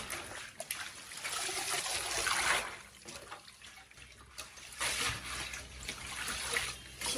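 Jingjie herb leaves washed by hand in running water, a steady trickle and splash of water in a sink with gentle swishing, close and continuous, no speech.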